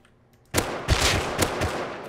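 Gunfire in the survival game Rust breaks a quiet moment with a sudden loud shot, then several more sharp reports follow in an uneven burst at close range.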